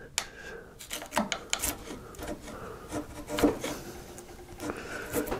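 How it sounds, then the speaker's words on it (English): Hand chisel taking very light, flat paring passes on wood while making winding sticks: a close, dry series of short scraping rasps and small clicks in an irregular rhythm, with no talking. "I'm just taking a very, very light pass, and a very, very light pass, trying to keep the chisel flat, but not aiming down."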